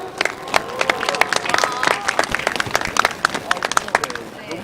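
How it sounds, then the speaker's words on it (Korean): Crowd at a candlelight protest rally outside a party headquarters applauding, dense irregular clapping with scattered sharp claps and murmuring voices over steady outdoor background noise. "동지들의 힘찬 박수로 모시겠습니다"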